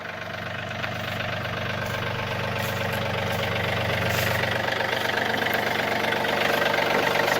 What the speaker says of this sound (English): Nice clean little 3-cylinder Yanmar diesel.